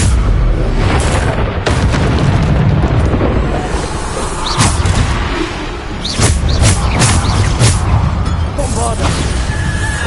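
A Bombarda spell explosion in the Hogwarts Legacy video game goes off as a deep, loud boom. It sits within dense, continuous battle noise, with sharp crackling bursts following in the later seconds.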